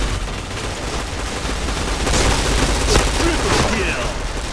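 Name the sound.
gunfire in the video game PointBlank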